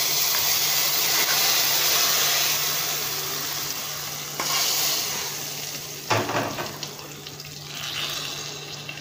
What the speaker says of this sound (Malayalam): നമുക്ക് സ്റ്റൗ നിർത്തിയിട്ട് ചട്ടിയിലേക്ക് ഒഴിക്കാം.